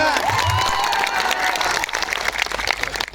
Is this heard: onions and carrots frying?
no